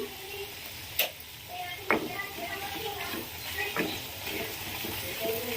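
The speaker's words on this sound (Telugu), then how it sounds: "దీన్ని మొత్తాన్ని ఒకసారి మంచిగా ఆయిల్లో కలిసేంత వరకు కలుపుకొని స్టవ్ బంద్ చేసుకోవాలి" Peanut and mint chutney is stirred into hot oil in a pan, giving a faint sizzle with a few soft scraping knocks of a spoon spread across the clip.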